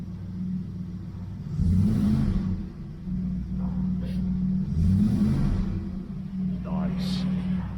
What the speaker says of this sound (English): Nice steady idle there.